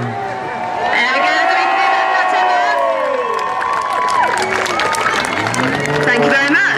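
A large outdoor airshow crowd at Teignmouth cheers and shouts loudly and continuously once the aircraft engines fall silent, with excited voices and scattered whoops filling the whole stretch.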